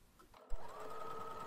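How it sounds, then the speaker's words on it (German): A sewing machine starts up and runs a steady, fast whirring stitch along a seam on a bag sewn from a pillowcase, quiet and close after a brief faint rustle. "so nah wie möglich an der Ecke beginnen und dort die Naht verriegeln und dann bis zur anderen Seite nähen"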